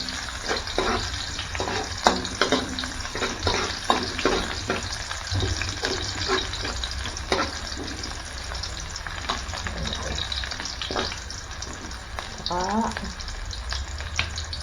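Garlic and onions sizzling in a frying pan, a continuous close crackle broken by scraping and stirring knocks, with faint background sounds.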